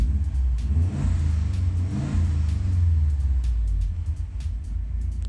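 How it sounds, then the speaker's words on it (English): A Subaru WRX engine idles low and close, then revs up and settles back in a sustained, loud rumble with no one speaking. "And then I'm going to rev just to make sure it's working."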